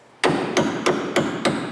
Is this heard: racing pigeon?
no